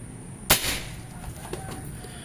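A single sharp shot from a Mouser Monel Biggame 4000 PSI sidelever air rifle with a 60 cm barrel cracks out, then a brief decaying tail over a quiet steady hum; nothing else follows.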